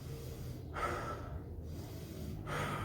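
A voice imitates Kussmaul breathing, the deep labored respiration of diabetic ketoacidosis: two prolonged, rasping inhalations separated by a pause, close and fairly quiet with no talk.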